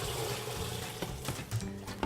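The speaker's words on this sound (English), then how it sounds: "So pour the warm rinse water" Warm rinse water pours into a Vessi fermentor vessel, a soft steady watery rush with a few small splashes and knocks, fairly quiet throughout.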